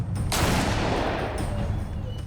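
A gunshot fired at an attack dog outside a house cracks out sharply and close, followed by a long, noisy rumbling decay that fills the rest of the moment.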